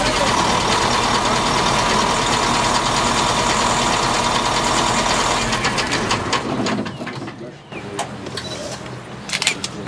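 A British-made multifunction tractor's engine runs at a steady, loud idle for about six seconds, then drops back and fades as outdoor noise and faint sounds take over.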